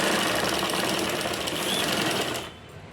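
A sewing machine runs steadily while stitching the lining of a blouse, a dense continuous whir that stays loud and close before dropping off sharply near the end.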